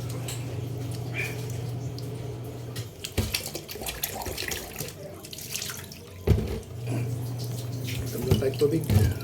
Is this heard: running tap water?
yes